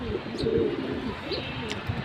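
A newly adult pair of pigeons coo in soft low murmurs close by, with faint background noise and a few brief higher chirps.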